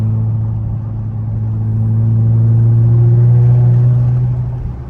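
The engine of a Dodge Charger rumbles deep and steady while driving in Atlanta traffic, heard from inside the car, swelling slightly louder midway and then easing off, with no talk.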